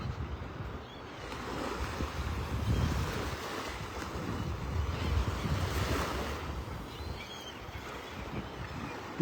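Ocean waves at Pelican Bay beach in North Naples, Florida, a continuous moderate surf wash rising and falling in gentle swells, with light wind noise across the microphone and no one talking.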